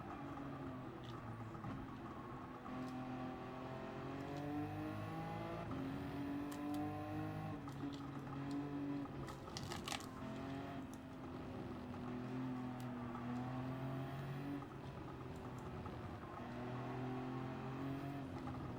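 Race car engines droning steadily through a Gran Turismo 7 endurance race at Suzuka, several cars' tones rising and falling with gear changes, a continuous loud engine bed with no pauses.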